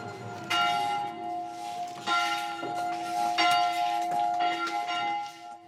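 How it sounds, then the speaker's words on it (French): A church bell among Eastern Christians rings in slow, regular strokes, each clang leaving a long humming resonance that overlaps the next, fairly close and clear. "C'est la première fois que vous refaites sonner cette cloche?"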